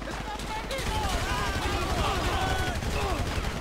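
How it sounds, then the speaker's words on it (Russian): Video game gunfire in a Grand Theft Auto 5 shootout: rapid bursts of shots crackle under someone talking, with a game soundtrack and effects running throughout. "Перестрелочки — это всегда круто."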